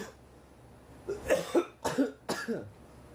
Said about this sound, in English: I'm still sick, so I'm coughing up a storm.